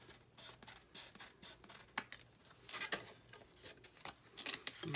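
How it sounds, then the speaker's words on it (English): Quiet, irregular snips and scratchy rustles of scissors cutting through card, close up with no talking. "And I'll just cut it even with the base of the card."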